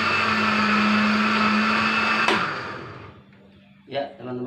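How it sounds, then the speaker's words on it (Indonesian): A kitchen blender grinds lemongrass for a homemade plant pesticide, a loud steady whirring motor that cuts off abruptly partway through, leaving quiet room sound with a brief clatter near the end. "semua bahan sudah terhaluskan di blender dengan halus"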